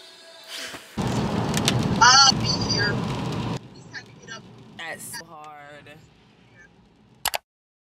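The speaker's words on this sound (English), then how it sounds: "and it's raining" Heavy rain falls outdoors in a loud, dense hiss for a few seconds, then drops away, while a person talks over it and afterwards.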